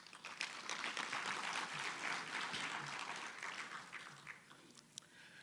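Audience applause at a TVET college conference, a close, dense patter of many hands clapping steadily before thinning out slightly toward the end, with no speech over it.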